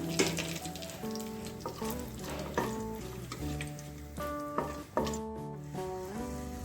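Whole cardamom, cloves, cinnamon and bay leaf fry in hot oil at the start of a cluster bean pulao, giving a steady soft sizzle beneath prominent background music.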